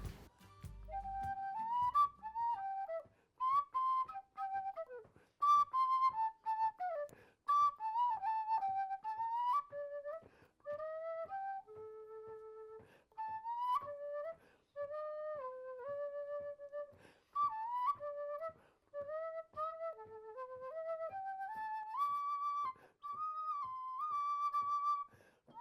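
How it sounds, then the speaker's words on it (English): A cheap penny whistle plays a lively melody of clear, piping notes, near and solo, with quick runs and short breaks over about twenty-five seconds. "I want to play this penny whistle"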